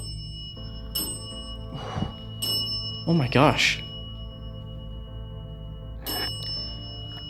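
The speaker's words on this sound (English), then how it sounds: "Can you tap on that bell if you did?" A small bell is tapped during a paranormal investigation in underground tunnels, ringing in a few separate bright strikes spread across the clip, with a person briefly exclaiming in the middle.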